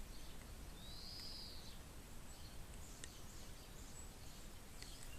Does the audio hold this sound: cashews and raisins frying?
no